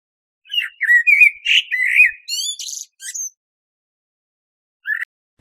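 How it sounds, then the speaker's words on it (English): A blackbird sings one quick run of fluty, warbling whistles and chirps, ending in a single short note after a pause, clear against silence. "Blackbird."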